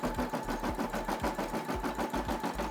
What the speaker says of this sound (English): And you see the SE600 stitching out this part right here